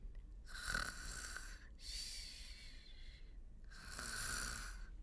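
A storybook reader imitates sleeping animal friends snoring, giving three long, breathy, rasping snores with short pauses between them, quiet and close with no talk over them.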